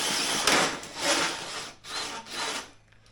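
Steel roll cage tubing being notched, giving harsh broadband grinding bursts in three strokes with brief pauses between, close and loud with no talk.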